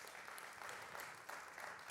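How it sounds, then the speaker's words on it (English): An audience applauds Keith Richards at his book launch in Lagos, a steady, fairly quiet wash of clapping that fills the whole two seconds without any voices. "another applause for him"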